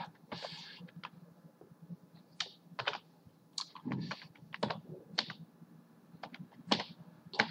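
Typing an email address on a computer keyboard: quick, close, irregular key clicks in short bursts with brief pauses between, crisp and fairly quiet against a still background.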